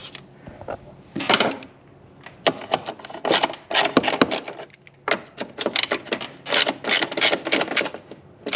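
Four 12mm bolts are being removed from the battery tray of a Hyundai Santa Fe, heard as bursts of quick, sharp ratchet clicks and metallic taps, close up, separated by short pauses.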